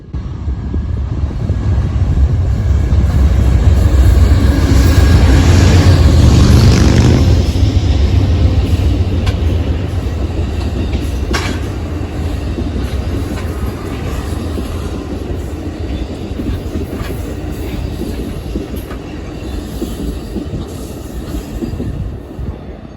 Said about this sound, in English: Amtrak train number 3, the eastbound Southwest Chief coming out of Los Angeles, California and heading for Chicago